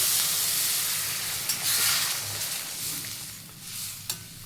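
Spice mixture bubbling and hissing in a blackened iron wok after water is added, a loud continuous steamy sizzle with a few soft stirring knocks, close by with no talking.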